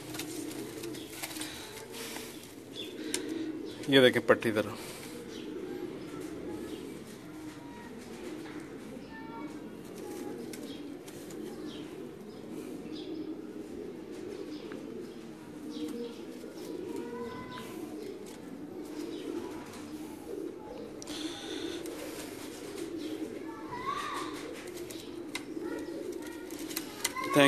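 Pigeons kept among quail coo softly in a steady background murmur, with a brief louder flutter near the start and someone talking intermittently over them.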